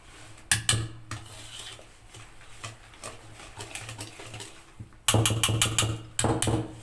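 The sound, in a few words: mixing basbousa batter in a bowl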